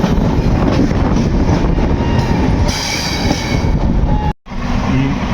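The Varanasi–Jammu Tawi express rumbles past loudly and close by, its heavy wheel-and-carriage roar continuous apart from a brief drop near the end.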